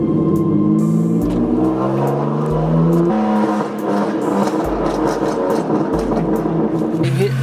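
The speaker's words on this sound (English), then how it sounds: "I'll give you guys a chance to hear the car." A BMW car engine revs in a series of rising and falling pulls while driving, loud and close, with engine note steps and a person talking over parts of it.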